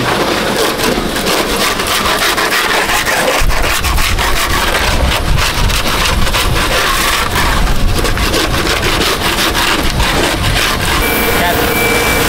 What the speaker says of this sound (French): Vous entendez le bruit de fond? C'est un gros Karcher.